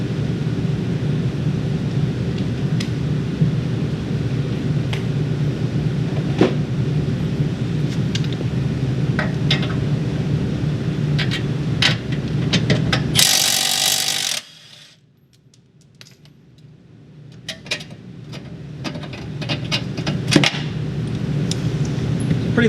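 An 18mm deep well socket on a ratchet works bolts loose during an electric fan replacement on a 1998-2004 B5 Volkswagen Passat, with repeated ratchet clicks and metallic taps over a hum, and a brief burst of noise midway.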